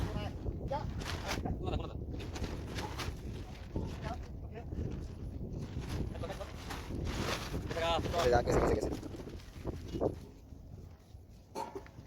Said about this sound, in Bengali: কি স্পিডে নৌকা চলে যাচ্ছে